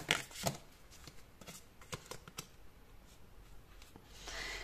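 Tarot cards are shuffled and drawn close by, with a series of quick papery riffles and slaps in uneven bursts, followed by a soft rustling swish.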